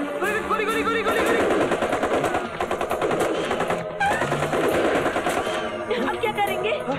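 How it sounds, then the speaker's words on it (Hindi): Rapid gunfire from a helicopter in a Hindi action film scene rattles in loud sustained bursts with short gaps, mixed with dramatic music and other movie sound effects. "गोली चला रही, गोली गोली गोली गोली गोली गोली"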